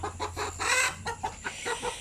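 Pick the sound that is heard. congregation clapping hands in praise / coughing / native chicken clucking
native chicken clucking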